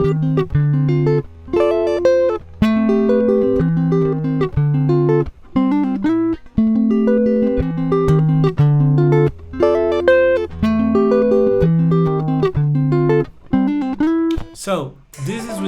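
A clean, dry electric guitar with no delay or reverb plays a riff at a quicker pace, a busy run of distinct plucked notes with a brief string scrape near the end.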